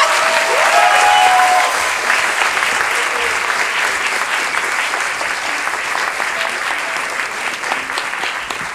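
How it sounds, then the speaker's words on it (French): Audience at an improv comedy show at a Paris festival bursting into loud, sustained applause, a thick continuous roar of clapping that swells early and tapers slightly while staying strong to the end. "Nous vous demandons de leur faire un tonnerre d'applaudissements."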